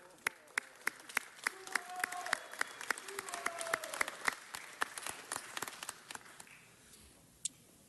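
People in the LA City Council chamber clap for UCLA, a moderately distant round of applause with crisp individual claps that builds and then thins out and fades toward the end.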